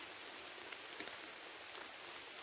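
Steady rain falls around a wild campsite in Scotland, a soft even hiss with a few louder drops spattering close by, no voices.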